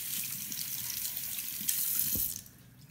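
Tap water runs steadily into a sink while sliced lotus root is rinsed, a close, continuous gushing that cuts off near the end.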